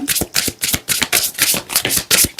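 A deck of Calypso oracle cards is shuffled by hand in quick, rhythmic bursts, about ten crisp papery riffles close up, with no voice over them.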